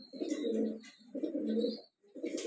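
A pair of racing pigeons gives three close, soft cooing calls, each a rolling low coo about half a second long, separated by brief pauses.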